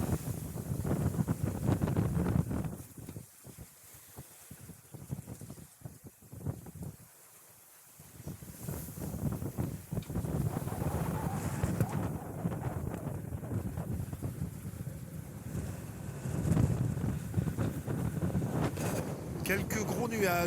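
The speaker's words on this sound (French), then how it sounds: "Un vent aux alentours de 15 nœuds." Wind buffets a sailboat on open sea, blowing around 15 knots with the boat about 50 degrees off the wind, gusting across the microphone in loud rushes with brief lulls.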